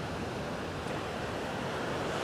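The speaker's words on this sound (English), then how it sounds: "I like to top my cocktail, some Pellegrino, because I like a little sparkle to my cocktail." Sparkling Pellegrino water pours over a blueberry mojito cocktail, a steady broadband fizz and hiss that holds evenly throughout with no voices.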